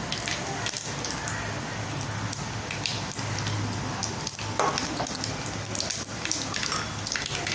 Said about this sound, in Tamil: கடுகு வெந்தயம் நல்லா பொரியணும்.